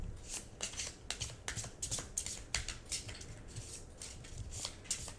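A deck of cards is shuffled for a solo board game of Cosmic Colonies, a series of quick crisp riffling flutters and soft taps, close and fairly quiet, with no talking.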